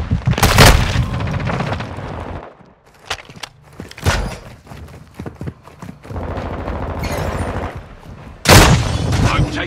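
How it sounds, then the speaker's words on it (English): A stun grenade goes off during a Call of Duty Modern Warfare 2 multiplayer deathmatch on PS5, with loud booming blasts and gunfire in repeated bursts amid the noisy chaos of battle. "Throwing a stun grenade."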